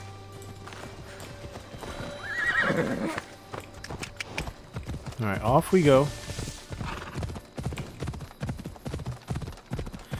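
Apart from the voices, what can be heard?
horse galloping and neighing in Assassin's Creed Odyssey video game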